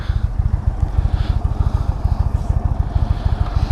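A 2016 Indian Roadmaster motorcycle rumbles close by with a steady, low, throbbing engine pulse as it pulls out, loud and even throughout with no voices.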